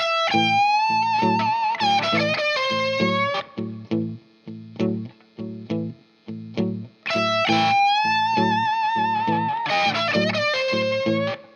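Electric blues guitar lead with overdriven tone: bent sustained notes, then a run of short punchy stabs, then more wailing bends, played alone and up close.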